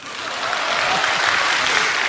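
A lecture audience breaks into applause, with dense, continuous clapping from many hands that swells slightly and holds steady.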